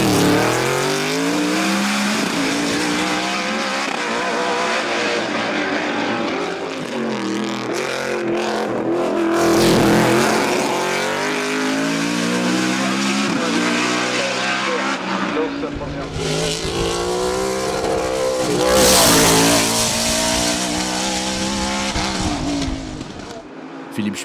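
A BMW M3 E92 race car climbs the hill at the Limonest hill climb, its engine revving and shifting through gears with tire squeal. The engine runs continuously and fairly close, partly under commentary.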